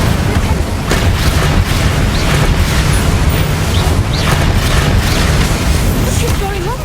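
An Incendio fire spell explodes in Hogwarts Legacy amid a loud, dense, continuous roar of booming battle noise, with voices mixed in.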